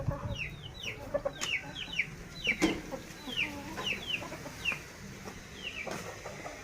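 Chickens cluck repeatedly in short, scattered calls, with several birds nearby and some quieter rustling underneath.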